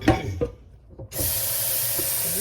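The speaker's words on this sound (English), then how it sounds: "Put some water in here." Tap water runs steadily into a pan in a home kitchen, a bright continuous hiss that starts after a few brief clinks and handling sounds and continues alone to the end.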